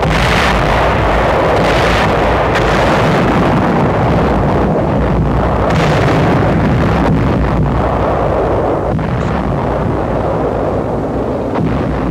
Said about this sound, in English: troops of the 14th Corps bring up artillery to attack the Clark Field area, which is subjected to heavy shelling